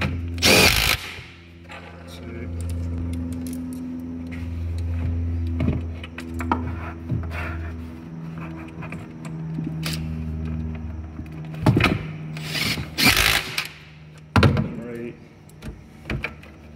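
A power drill bolts the halves of a gaming base back together in short bursts of whirring, with clunks and handling noises between them and someone talking nearby.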